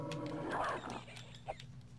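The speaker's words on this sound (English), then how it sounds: "Is there a tiger in here, too, or whatever?" A tiger-like creature in the video game Daggerfall roars, a low growling rumble that swells and fades over about a second against game ambience, followed by a few faint clicks.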